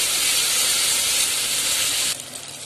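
Chopped tomato sautéing in oil for a Tamil fish curry gives a loud, even hiss close by that drops away abruptly near the end.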